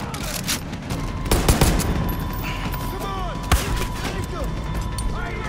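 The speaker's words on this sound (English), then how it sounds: "He's shooting me through a pole." Scattered enemy gunfire in the video game Far Cry 5, a few sharp cracks and a cluster of shots mid-clip over a busy background of game ambience and effects.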